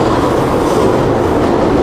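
Metro train carriages rolling along the line, a loud, steady rumbling roar with continuous rail noise and no voices.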